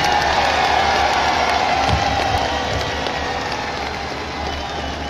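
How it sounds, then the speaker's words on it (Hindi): At a large political rally in Rawalpindi, a big outdoor crowd claps and cheers in a steady, dense roar heard from a distance, lasting throughout without a break. "जरा एक दफा तालियां बजा के शेख रशीद को अप्रिशिएट करें।"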